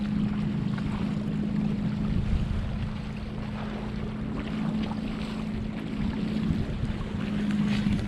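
Sailboat running downwind wing on wing with a preventer on the main, steady wind rush and a constant low drone with water wash along the hull, loud and unbroken throughout, no talk.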